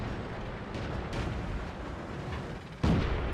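A Chiha tank fires its cannon in the World of Tanks video game amid a continuous battle rumble, ending in one loud, sharp blast.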